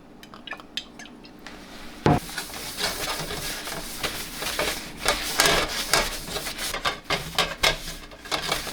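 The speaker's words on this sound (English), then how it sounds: "we're going to get some olive oil and wipe the smallest amount onto the pan" A cloth rubs a small amount of olive oil over a homemade griddle pan, producing close, continuous rough wiping and scraping, with a sharp knock near the start and uneven strokes throughout.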